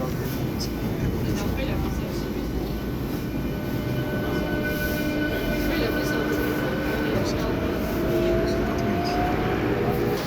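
A metro train on line A rumbles and rolls to a halt, with a steady low roar, faint squeals and rattling throughout, heard from inside the carriage.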